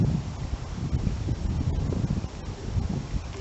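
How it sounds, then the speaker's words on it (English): Strong outdoor wind on a fogless morning, a constant low rumble and microphone buffeting with faint rustling, steady throughout without speech. "there's way too much wind to hold down any fog"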